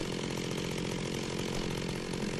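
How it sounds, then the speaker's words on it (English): A chainsaw in Minecraft with the Forestry mod drones continuously and steadily at an even, fairly loud level, without pause or voices. "that chainsaw is making a lot of sound, a lot of noise"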